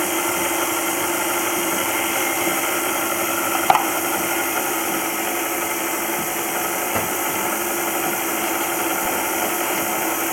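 An electric mixer runs on low while it beats cake batter for a pineapple orange cake, giving off a steady, even motor hum with one brief clink partway through.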